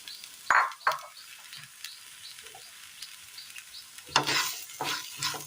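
Onion and fried brinjal being stirred in a frying pan for a curry, with a soft sizzle under scraping spoon strokes that bunch up near the end, no voices.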